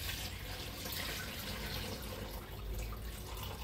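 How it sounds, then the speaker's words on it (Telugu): Rice for dosa and idli batter is washed by hand in water, a faint, continuous swishing and trickling of liquid with no talk. "రైస్ అయితే కడిగేసుకుంటున్నాం."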